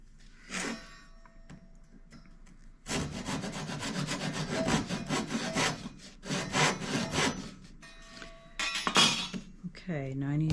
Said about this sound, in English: Let the saw do the work.